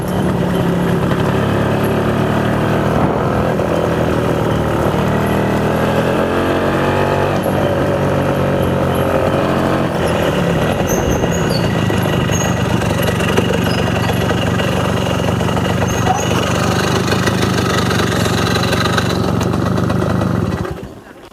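An Ogar moped from 1987, its 205 engine running without a CDI unit, putters and idles loudly and close by for a long continuous stretch, its pitch shifting now and then before cutting off at the end.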